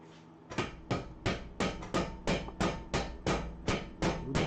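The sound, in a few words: hitting car axle to push it out during clutch job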